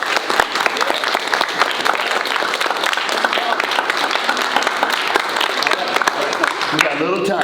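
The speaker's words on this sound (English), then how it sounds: "Everybody clap your hands" A middle school audience in a gym claps loudly and continuously, dense rapid hand-clapping running the whole stretch, with a voice breaking in near the end.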